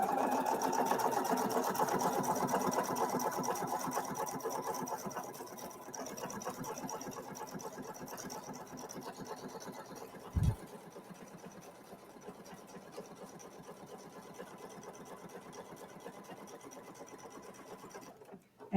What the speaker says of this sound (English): Put my needle down, start stitching.